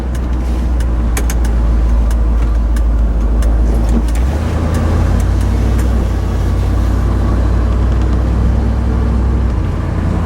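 A Ford truck idles with a deep, steady exhaust burble through a newly made tail pipe, a continuous low rumble that shifts slightly in pitch partway through, heard close and without talk.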